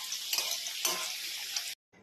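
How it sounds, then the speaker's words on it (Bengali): Potato pieces deep-frying in hot oil until reddish-brown give a loud, dense, continuous sizzle that cuts off abruptly near the end. "আলুগুলো ভাজা হয়ে গেছে লাল লাল করে"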